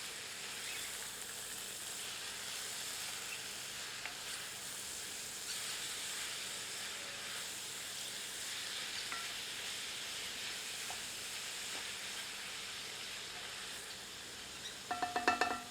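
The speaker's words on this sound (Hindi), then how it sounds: "इसमें मूली ऐड कर देते हैं। एक बार स्टर करते हैं।" Radish stirred into golden garlic frying in a pan gives a steady, even sizzle and hiss, with a short clatter of stirring near the end.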